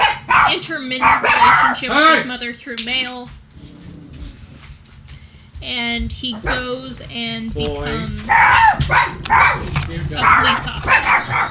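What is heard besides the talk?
dog barking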